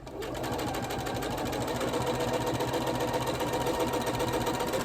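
A sewing machine stitching fabric for a quilt block runs continuously and loudly at a fast, even rhythm, with a steady mechanical whir and chatter throughout and no talking.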